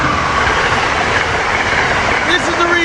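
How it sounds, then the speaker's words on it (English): Amtrak regional train led by ACS-64 electric locomotive 662 passing close by, a loud continuous rumble with wheel clatter and a brief high squeal near the end. "Here we got an Amtrak train coming to south. ACS-64 leading."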